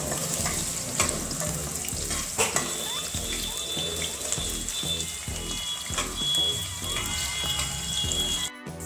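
Potatoes stir-fried in a pan for a mixed vegetable dish, with a steady close sizzle of frying under repeated scraping stirs of a utensil against the pan, and a faint background hum of running water throughout.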